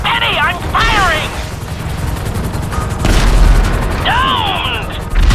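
Gunfire rings out in a GTA V mission, with loud bursts and booming shots over constant engine and wind roar. Voices shout over the din in the first and last seconds.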